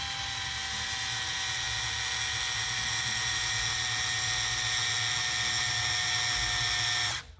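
A small electric driver runs steadily with a high whine while tightening screws on a Tekno SCT410.3 short course RC truck kit, then stops abruptly near the end.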